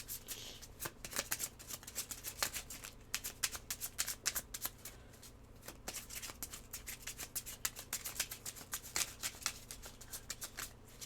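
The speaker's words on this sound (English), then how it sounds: "Give it a good shuffle," A deck of playing cards being shuffled by hand, with rapid riffling bursts and soft rubbing repeating steadily throughout, close and fairly quiet with no talk.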